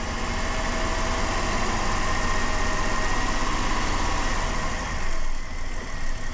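The 3.3 engine of a 2007 Dodge Caravan with a no-start spark plug fault runs close by as a steady hum. It swells slightly near the end as it is revved.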